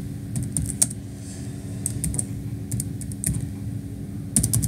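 Someone types on a computer keyboard in short, close bursts of sharp key clicks, with pauses between, over a low steady room hum and no speech.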